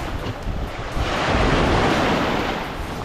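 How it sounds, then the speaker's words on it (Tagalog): Strong ocean waves wash onto a beach in Siquijor in a continuous, loud rush of surf, heavily mixed with wind buffeting the microphone, and no one speaks. "Pero malakas lang yung alon."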